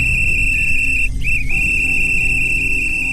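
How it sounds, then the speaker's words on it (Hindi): A steady, loud whistle blast holds one high pitch almost throughout, with a brief wobble near the middle, over a constant low rumble of outdoor traffic noise. "वो अपने टाइम पे आया और सीटी बजाया"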